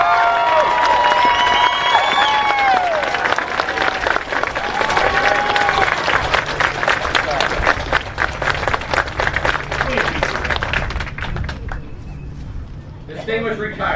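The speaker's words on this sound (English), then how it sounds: "Please join me in a round of applause in honor of today's retiree." Sustained audience applause at a US Army retirement ceremony honoring retirees, a dense wash of clapping with scattered voices and band-like tones layered in, fading toward the end.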